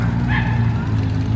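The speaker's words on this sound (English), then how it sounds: "the barking dog." A dog barks and yips near a Ferrari on a Toronto street, a few short close barks over steady low traffic rumble.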